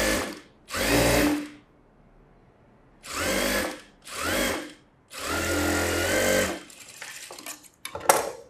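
A sewing machine stitches the lining of a puff sleeve in a tailoring lesson, running in four close, loud bursts of rapid needle clatter separated by pauses, the longest run near the end followed by scattered handling clicks.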